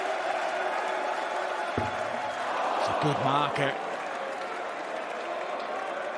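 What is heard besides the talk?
darts crowd cheering and applauding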